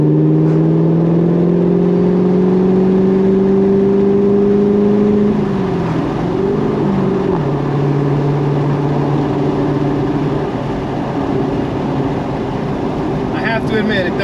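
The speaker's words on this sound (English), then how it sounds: "drop another gear and get to listen to that exhaust" A 2015 Corvette Stingray's 6.2-litre V8 with a manual gearbox drones loudly and steadily from its exhaust, then the pitch shifts and wavers midway as the engine is revved through a gear change before settling back into a sustained, smooth hum.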